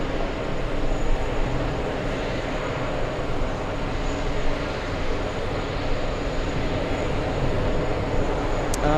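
A fixed-wing airliner landing at JFK airport, a broad steady roar of jet engines filling the scene at close to moderate distance, continuous and fairly loud with no talk.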